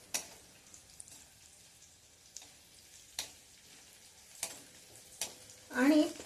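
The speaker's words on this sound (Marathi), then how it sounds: "मी थोडासा गॅस पुन्हा चालू करते, म्हणजे ती डाळ चांगली तळली जाईल" Dal frying in hot oil for a tempering gives a soft, faint sizzle under intermittent sharp clicks and stirring knocks, with a louder burst of crackling near the end.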